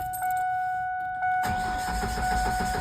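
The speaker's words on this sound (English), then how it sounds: "we are going to try to start the truck" A Ford Ranger pickup with bad fuel injectors cranks continuously without catching, a steady rough churning that starts abruptly after a few seconds of electronic chime tones and runs to the end.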